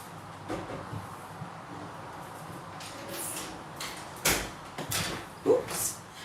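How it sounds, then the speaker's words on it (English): A door is pushed shut indoors, giving a few soft knocks and a firmer thud near the end against a low background hum. "I'm just going to shut my door"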